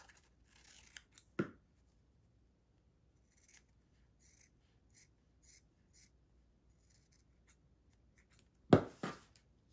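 Scissors trim paper for a journal page: two distinct snipping cuts, one early and one near the end, separated by near-silence with a few faint paper rustles and ticks.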